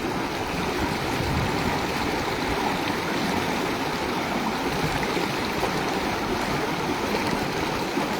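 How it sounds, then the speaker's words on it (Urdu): A flash-flood torrent rushes down a mountain stream after rain in the Koh-e-Suleman hills, a steady, loud, close roar of churning water that continues unbroken throughout, with no voices. "بہت زیادہ تو نہیں ہے ریلا"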